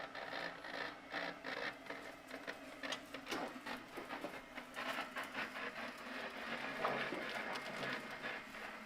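A PODTopic 380-F machine is run at low speed and feeds sheets through, giving a continuous mechanical whir with repetitive clattering and rhythmic feed clicks, steady and fairly close with no talking.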